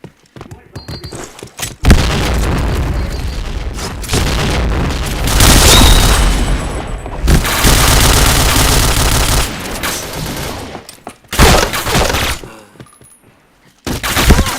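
Loud bursts of gunfire and a booming grenade blast from the shooter game PointBlank, dense and heavy for long stretches with short quiet gaps, while players shout and talk in between.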